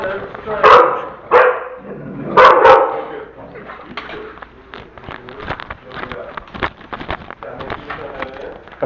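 A pet dog barks in sharp loud bursts, two clusters early on, then quieter yips and short noises continue through a training session.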